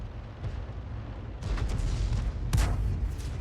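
Cannon fire from an AMX 13 F3 AM self-propelled artillery gun in a tank battle video game: heavy booming shots, one near 1.4 seconds and a louder one around 2.6 seconds, over a constant low rumble of engine and battlefield noise.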